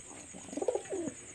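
One close, throaty coo sequence from a Khulna-bred Pakistani high-flyer pigeon inside a dim loft room, rising and falling over about half a second above low background hum.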